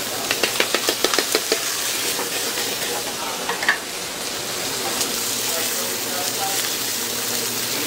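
Fresh scallops seasoned with salt and pepper dropped into a hot pan, a burst of rapid clatter and sizzle at the start settling into a steady, fairly loud hiss of searing.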